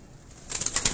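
Pigeons on a rooftop in Johar Town, Lahore, with quiet rustling and then a burst of wing flaps and soft movement in the second half, close by, with no talk.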